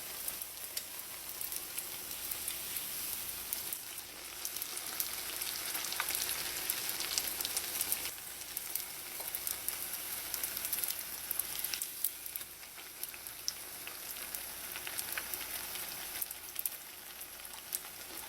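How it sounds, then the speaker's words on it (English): Jalebi batter frying in hot oil over medium-low heat, a steady, even sizzle with fine crackling pops running continuously throughout, moderately loud and close, with no talking. "you want it to take its time and fry and create a nice"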